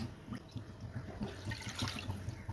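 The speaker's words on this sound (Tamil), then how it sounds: "இப்போ இதில் நம்ம எடுத்து வச்சுருக்கிற ஆரஞ்சு ஜூஸ் வந்து சேர்த்துக்கலாம்" Orange juice pours into a kadai pan on a stove, a continuous close splashing and liquid gurgle that runs without a break and with no talking.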